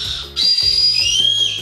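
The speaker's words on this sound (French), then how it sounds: "Donc en gros c'est un sifflet." Strawberry candy lollipop whistle blown in a few loud, shrill, slightly wavering tones with a brief gap, close to the mic over a low background murmur.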